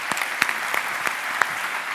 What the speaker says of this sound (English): you're going to clap massively loudly